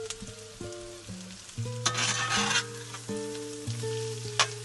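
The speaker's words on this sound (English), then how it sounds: "And let them fry for another 6 to 8 minutes." Onions fry and caramelize in a pan, a steady close sizzle with brief bursts of louder hissing and stirring while a low electrical hum and faint tones sit underneath, with no talking.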